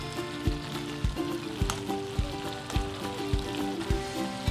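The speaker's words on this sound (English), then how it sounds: "You can see the shrimp starting to curl, so I'm going to turn them over so they cook evenly." Cajun BBQ shrimp sizzle steadily in a hot pan while being turned over, with soft repeated thuds and taps from the turning cutting through the frying.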